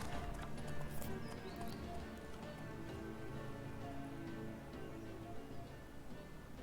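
Horse hooves clip-clop steadily on a road in The Witcher 3, the hoofbeats carrying on throughout over a dense wash of ambient game sound, with a faint whinny and what may be light rain in the mix.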